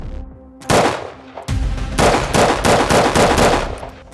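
Rifle fired through a Surefire 3-prong muzzle device: a single sharp shot, then a rapid string of loud, close shots in quick succession.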